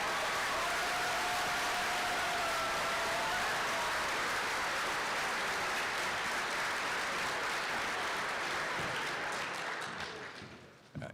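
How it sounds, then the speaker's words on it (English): Sustained applause from a banquet audience for a University of Manitoba student design team at the ASABE competition, a dense steady wash of clapping that runs about ten seconds and then fades quickly near the end. "Let's give them a round of applause quick."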